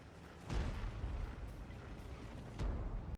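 Tank guns boom in an online tank game during a fight with a Panther, two heavy low thumps about two seconds apart over a steady rumble of engines and battle noise, with no talking.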